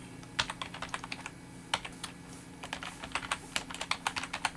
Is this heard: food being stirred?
no